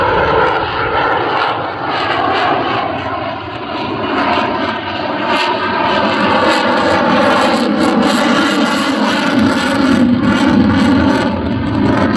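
A Lockheed F-35B jet fighter flies at the RAF Cosford airshow, giving a loud, sustained engine roar that holds steady for the whole stretch, heard alone without talk.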